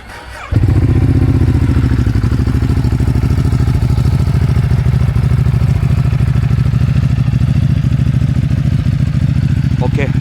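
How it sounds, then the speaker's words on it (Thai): A 2014 Ducati Hyperstrada 821 with 35,000 km starts up and settles into a loud, steady twin-cylinder idle with a throbbing low rumble close to the microphone outside a coffee shop. "ฟังเสียงเครื่องยนต์"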